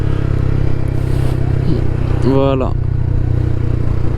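A 125cc motorcycle engine runs while riding, holding a steady low drone with a rough, even rumble throughout, while a voice speaks briefly over it.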